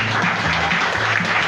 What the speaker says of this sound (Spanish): Brindemos fuertes aplausos a Dios